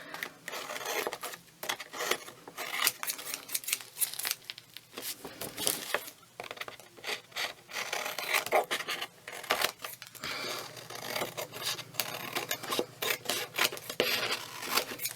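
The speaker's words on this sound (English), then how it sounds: "I'm just going to trim round." Scissors trim around the edge of a crafted paper board, producing soft, irregular rasping snips and rustles of paper, quiet and close with no talking.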